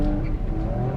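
Honda S660 with a 660cc engine, heard from inside while driving: a steady, droning engine hum with a continuous low rumble and a faint higher whine, constant in level with no talking.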